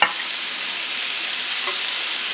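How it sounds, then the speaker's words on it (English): A sauerkraut mix for Reuben sandwiches stir-fries in a pan, giving a steady, even hiss of sizzling with a small clink at the start and no voices. "all I'm going to do is kind of stir fry it"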